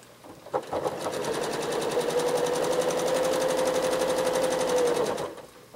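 A regular domestic sewing machine free-motion quilts a big quilt in a steady, rapid mechanical stitching rhythm with a faint hum, starting after a brief pause, running for about five seconds, then stopping.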